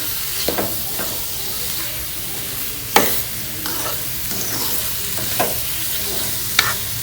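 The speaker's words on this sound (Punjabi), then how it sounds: "ਆਪਾਂ ਗਰਮ ਗਰਮ ਆਟੇ 'ਚ ਖੋਆ ਮਿਕਸ ਕਰ ਲਾਂਗੇ ਜੀ" Khoya stirred into hot roasted wheat flour in a pan for pinni sweets: a continuous soft sizzle with stirring strokes and a few sharp scrapes of the spoon against the pan.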